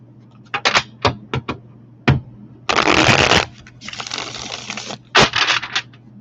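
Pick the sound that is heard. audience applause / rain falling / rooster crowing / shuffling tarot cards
shuffling tarot cards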